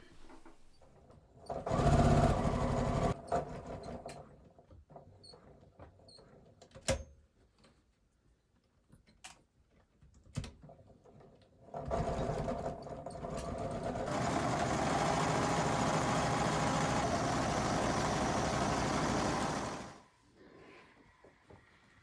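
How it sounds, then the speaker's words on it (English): A sewing machine stitches the inseam of pleated trousers: a short burst of stitching, scattered clicks and handling noises, then a long steady run of about eight seconds before stopping. "I'm going to start sewing from this edge all the way up and around."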